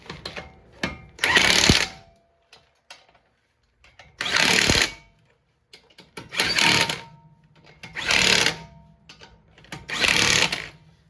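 Impact wrench running lug nuts on a 2008 Ford Edge wheel during a brake job, five loud bursts of about a second each with short quiet gaps between them, close by.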